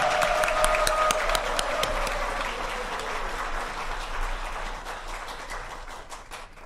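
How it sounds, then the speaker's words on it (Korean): A congregation at a church service gives sustained, dense applause, many hands clapping steadily and then slowly fading toward the end. "하나님께 영광의 박수를 올려드립니다."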